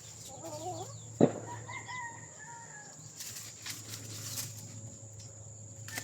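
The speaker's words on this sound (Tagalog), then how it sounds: "Malaking manok" A rooster crows in a long drawn-out call with a sharp clucking burst before it, over a steady background hum and a faint second crow farther off.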